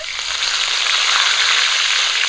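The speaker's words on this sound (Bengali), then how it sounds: "গরম তেলে দিয়ে দিচ্ছি তেজপাতা" Bay leaves hit hot oil in a village-style kitchen, where a duck curry is being cooked after potatoes have been fried, giving a loud, steady, close sizzle and crackle that continues without any talk.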